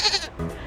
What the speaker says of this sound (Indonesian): Suara yang kedua adalah suara kambing.